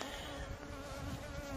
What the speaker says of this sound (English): So you just got to reach into 3 pounds of bees.